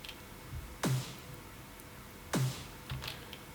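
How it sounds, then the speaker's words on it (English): Two short, dry EDM snare hits with no processing, a sharp crack followed by a quick noisy decay, spaced about a second and a half apart, with a fainter third tap trailing behind. "the shorter one, which sounds like this without the plugins."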